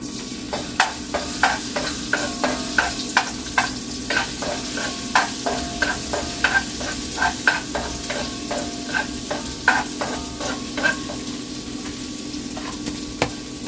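Garlic fries for fried rice in a hot pan, a loud continuous sizzle overlaid by rapid, rhythmic scraping and tapping of a spatula stirring it.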